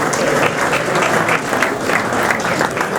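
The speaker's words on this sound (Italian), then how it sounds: "Dal Santa Lucia facciamo anche l'applauso doppio" An audience at a regional youth football awards ceremony gives a sustained round of applause. Fast, overlapping claps form a loud, continuous roar that holds steady for about three seconds.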